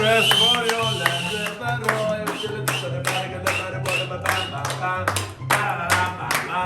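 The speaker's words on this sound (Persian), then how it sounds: "آقای مرتضی رو به وسط میز تشویق می‌کنیم." A small group claps for a player during a ping pong ball challenge at a table, with steady, fairly close hand claps running throughout while voices chatter over the top.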